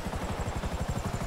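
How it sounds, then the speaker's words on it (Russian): A damaged, barely controllable helicopter in GTA 5 gives a close, rhythmic rotor thumping that pulses evenly under a low engine drone, with no voices. "вертолет не управляется совершенно"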